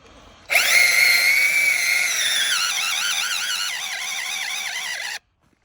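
A wood splitting drill bit boring into wood under heavy pressure, a loud close whining screech lasting about five seconds that wavers and warbles as it bites, then stops abruptly.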